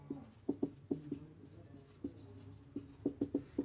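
Chalk or marker tapping and scratching on a board in short clustered strokes as physics equations about electric potential are written, quiet and close.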